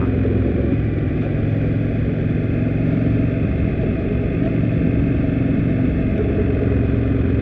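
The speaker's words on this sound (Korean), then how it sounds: "이게 배기음이 얼마 나오나?" An Indian Scout Bobber motorcycle's exhaust runs at a steady, even idle throughout, a continuous low engine rumble close by with no revving.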